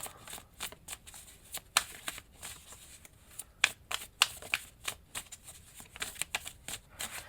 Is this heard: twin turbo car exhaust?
no